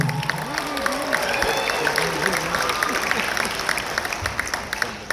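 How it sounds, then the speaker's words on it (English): Audience at the Miss Indian World pageant during Gathering of Nations 2022 gives sustained applause, a dense wash of clapping from a large crowd with voices and whoops mixed in over the top. "Give a round of applause to contestant number 20"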